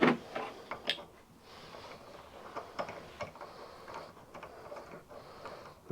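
A hand tap cuts threads into the damaged hole of an SNNC 420 P2 slide hammer, giving faint, irregular metallic ticks and clicks spread across a quiet background.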